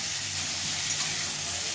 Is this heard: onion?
yes